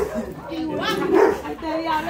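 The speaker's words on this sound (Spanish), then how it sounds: "Qué lindo perrito." A small dog gives a few yips and whimpering barks close by, layered under a person's voice speaking over the animal.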